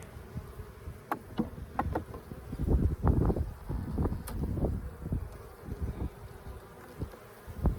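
Honeybees buzz around an open hive while Soybean Bay Farm's frames are inspected, giving a close, wavering drone broken by soft knocks and clicks from the handling of frames.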